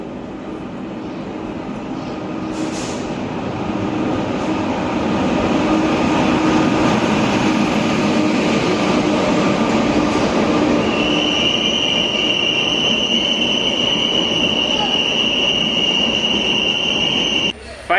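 Nagercoil-bound Amrit Bharat Express rolling in with a steady, loud rumble of wheels and carriages that builds and holds, a high squeal or whistle tone joining near the end.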